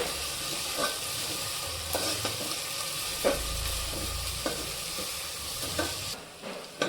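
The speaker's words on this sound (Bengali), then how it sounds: "আবার একটু ভেজে নেব পেঁয়াজ আদাটা আর একটু ভালো করে ভেজে নিতে হবে" Onion and ginger paste fry in a pan for white pulao, a steady crackling sizzle with repeated scraping stirs of a spatula, close and moderately loud, dropping off near the end.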